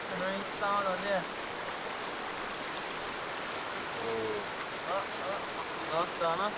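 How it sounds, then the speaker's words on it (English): Steady rain hiss over a wilderness lake during a canoe trip in the La Loche area, constant and close, with voices talking intermittently over it. "Oh, the fucking rain sound on there."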